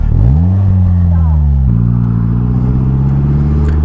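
A Polaris Slingshot engine revs up and holds a steady, loud idle-rev drone, close and throaty, with a brief dip and rise midway and no voices over it.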